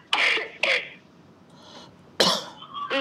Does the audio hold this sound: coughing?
yes